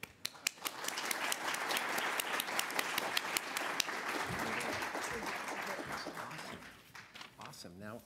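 Audience applause welcoming lecturer Ken Perlin at a university lecture series: dense, sustained clapping from a crowd lasting several seconds, loud and even, tapering off near the end.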